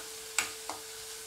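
Raw banana coated in turmeric sautéing in a pan gives a faint, steady sizzle, broken by two soft clicks of stirring; no one speaks.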